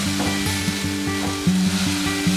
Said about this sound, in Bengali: ভালো করে একটু নেড়ে নেবো, মশলার সঙ্গে মাখিয়ে ভালো করে